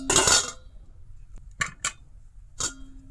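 Lid of a pressure cooker being opened after cooling: a loud metallic clank and scrape up front, then a few short sharp metal clinks and a final clatter, close by with no talk.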